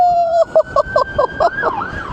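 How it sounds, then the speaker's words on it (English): A wailing emergency siren sounds close by in gale-force weather in Blackpool, rising and falling in quick, regular pulses before sweeping into a longer swoop. "Listen, there goes the siren."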